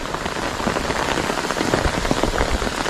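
Steady rain falls around rice paddies, a dense, even patter of drops striking surfaces, close and continuous without pause.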